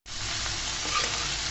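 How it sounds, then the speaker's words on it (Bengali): Water spinach sizzles in hot oil in a pan, a loud, steady, continuous frying hiss that starts abruptly and holds without pause. "এটাকে আমি সুন্দর করে 1-2 মিনিট ভেজে নিচ্ছি"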